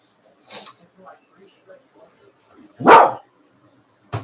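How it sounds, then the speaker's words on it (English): A dog barks indoors, one loud close bark followed by a second sharp bark at the end, with soft speech and quieter sounds earlier. "Who are you barking at?"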